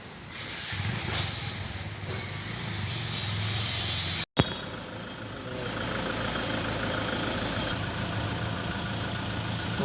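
A Toyota Innova diesel engine idles after a piston and engine overhaul with a steady mid-pitched running hum and light mechanical clatter. A brief dropout and click break it near the middle.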